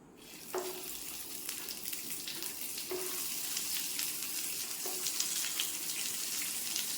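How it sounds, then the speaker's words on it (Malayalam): Eggplant pieces frying in hot coconut oil give a steady, close sizzle that fills the whole stretch, with a few soft clinks as pieces go into the pan. "ഇത് 2ആയിട്ട് പൊരിച്ചെടുക്കാം"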